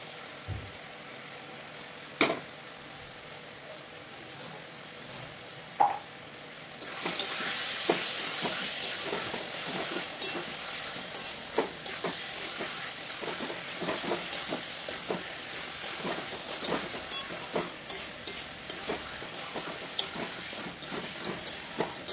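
Potatoes are dropped into hot oil in a pan, and after a quiet start a steady loud sizzle takes over, broken by frequent crackles and pops as they fry.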